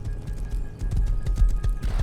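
Horse hooves in the game Rust, loud close clip-clop steps in a quick irregular rhythm with a brief whinny.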